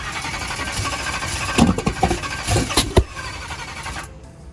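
A no-prep drag race car engine sputters and catches with the throttle cracked slightly open, giving irregular coughs and sharp pops over a rough running drone before cutting off abruptly near the end.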